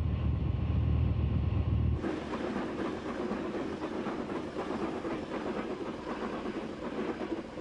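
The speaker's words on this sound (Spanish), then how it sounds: "Dos trenes han sido acoplados en unidad múltiple para este recorrido especial." A German multiple-unit passenger train of two coupled sets runs on rails, beginning with a low rumbling roar, then switching to a steady, close rolling clatter with faint rhythmic wheel clicks throughout.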